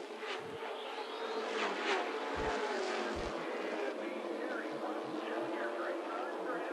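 Pro Truck Series race trucks circle the track at Concord Motorsports Park, their engines droning steadily at a distance beneath continuous announcer commentary.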